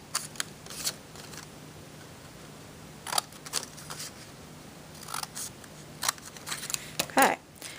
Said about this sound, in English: I'm going to take my big scissors and I'm going to cut on this line